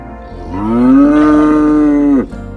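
A cow lows in one long, loud, sustained moo that swells and then cuts off, close to the listener, with no other voices present.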